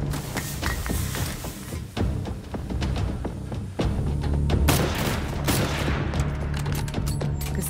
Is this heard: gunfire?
yes